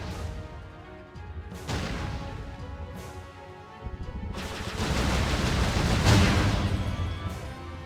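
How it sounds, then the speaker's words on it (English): Explosions and crashing blasts during a flight sequence in the video game Jade Empire, loud and dense, with repeated booming impacts that build toward a peak over steady game noise. "Our flight was great fun. Lots of explosions."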